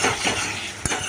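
Garlic and ridge gourd stirred in a pan with raw oil, giving a soft scraping and rustling with a brief utensil clink near the end, close and fairly quiet.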